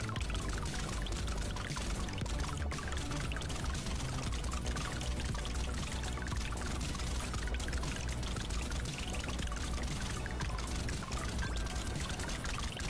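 Water pours for a drink in a faint, continuous stream, a soft steady trickle with no break that stays low and distant throughout.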